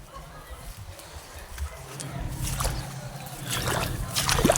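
Water sloshes and trickles as it fills a container in a bird pen, a low, uneven splashing that grows louder toward the end, with faint animal sounds around it.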